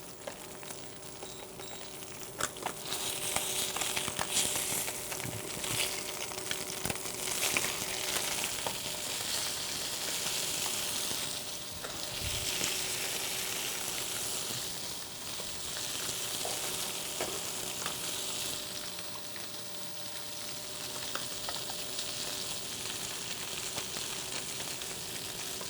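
Salmon fillets for salmon teriyaki fry in a pan with a continuous bright sizzle and crackle, steady and close, with occasional pops and scraping stir sounds, no voices.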